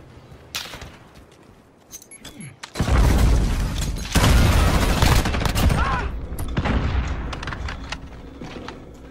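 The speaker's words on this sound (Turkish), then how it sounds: "Allied cruise missile launched." An allied cruise missile strike in Call of Duty: Modern Warfare multiplayer, a brief quiet lead-in with a few bursts giving way to a massive booming impact and a second blast, with rolling debris and gunfire trailing afterward.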